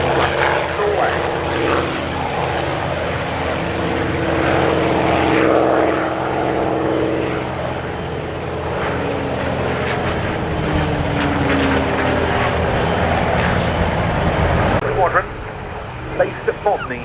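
A North American P-51 Mustang flying at the Duxford airshow, its propeller engine droning loudly and steadily with a shifting pitch as it passes, while a commentator talks over the public address.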